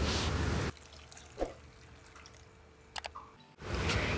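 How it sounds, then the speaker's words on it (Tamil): Water is added to a pan of spicy chickpea masala gravy in a home kitchen, heard as short bursts of pouring and splashing at the start and end around a quieter stretch with faint drips. "இது கூட கொஞ்சம் தண்ணி சேர்த்துடலாம்."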